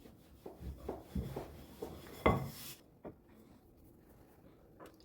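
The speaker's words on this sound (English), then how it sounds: "roll it as you would roll out a chapati" Plain-flour dough being rolled out thin like a chapati with a little extra flour, giving soft, uneven rubbing and scraping strokes close by, a few sharper knocks among them, then quiet.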